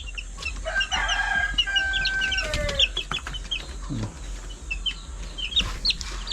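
Chickens cluck and a rooster crows nearby in a farmyard, several birds overlapping over steady background noise, with a bit of talk mixed in.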